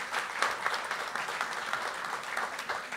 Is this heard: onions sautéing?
no